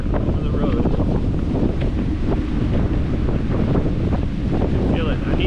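Strong wind by the sea on an Okinawa coastal road blasts into the microphone as a loud, steady, buffeting rumble, with surf and spray noise mixed in underneath.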